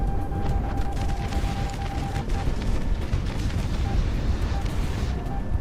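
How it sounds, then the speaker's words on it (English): Missiles fired by the final boss explode during a video game boss fight on the first mission of Mercenary mode, producing a dense, continuous roar of booms and blasts that stays loud and steady throughout. "those are anti-everything missiles"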